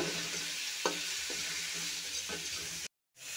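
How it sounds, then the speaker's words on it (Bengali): Chili, coriander and cumin powder sautéing for chana dal with green peas, a steady close sizzle with a few spatula scrapes against the pan, then a brief drop to silence near the end. "হাফ চামচ মরিচের গুঁড়ো, এখানে হাফ চামচ নিয়েছি ধনে গুঁড়ো, জিরার গুঁড়ো। ভালো করে এটা কষিয়ে নেব।"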